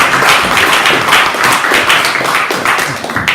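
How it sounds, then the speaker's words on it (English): Audience applause at an annual meeting, a dense, steady wash of many hands clapping together that holds loud and even throughout. "we go ahead and applaud them"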